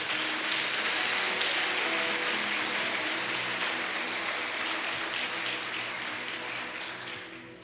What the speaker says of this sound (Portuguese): Agora dá um aplauso para Jesus aí.